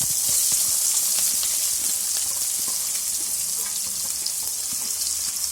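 Fennel seeds and onion fry in hot oil in a pan, giving a steady, bright sizzle and hiss with faint crackles and no voices.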